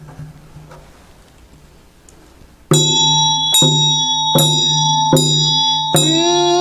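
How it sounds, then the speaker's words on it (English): A damaru hand drum and bell are played during Chöd practice chanting. After a quiet start, loud ringing metallic strikes come at a steady pulse of about one per second, each overlapping the previous one's ringing tone. "chanting with the Damaru and bell"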